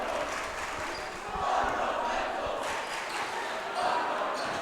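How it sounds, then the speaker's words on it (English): Home crowd in a school gym at a boys high school basketball game reacts to a missed open layup with a swelling roar and jeers. The noise is loud and continuous and comes in two rising waves. "he's hearing it from the Sacred Heart Prep crowd"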